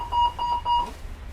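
A call-for-aid alarm from a train saloon wheelchair bay sounds as three short, clear electronic beeps in quick succession, each a steady single-pitched tone, against a low background hum.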